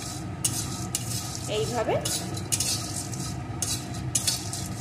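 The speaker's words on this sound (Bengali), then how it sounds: "একটু নেড়ে নেব।" Spices roast in a pan for a homemade masala, sizzling steadily while a utensil stirs them in bursts of scraping, close and loud; a voice speaks briefly.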